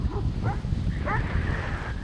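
A dog gives a few short yips and whimpering barks beside a rural country road near Trenton, Florida, heard over steady low wind rumble.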